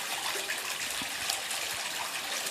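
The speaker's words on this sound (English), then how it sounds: "This water feature on the lower portion has its own little waterfall fed with a different feed from the" A small waterfall in a garden pond in Santa Fe, New Mexico, fed by a pump, trickles and splashes in a steady, moderately quiet stream of water.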